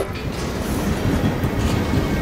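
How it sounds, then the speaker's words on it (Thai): A train rushes past in Assassin's Creed Unity, a loud, steady roar of rolling rail noise with clickety-clack rhythm filling the whole moment, close by and without voices. "โอ้ยรถไฟ วิ่ง"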